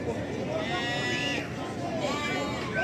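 Lambs bleat repeatedly at a busy livestock market, several wavering calls rising over a steady crowd murmur and nearby voices talking throughout.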